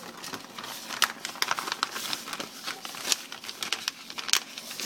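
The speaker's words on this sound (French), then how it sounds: "ça vient dans un petit sac comme ça. Je vais le déballer" Crinkly plastic rustles and tears close up as a small bag of frozen fuzzy mice, meant as food for a baby corn snake, is unwrapped, with irregular sharp crackles throughout.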